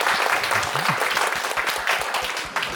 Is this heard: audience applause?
yes